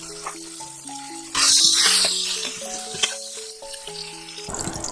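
Oil hits a hot Instant Pot with a sudden, loud, steady sizzling hiss that holds for several seconds, playing over stepped background music.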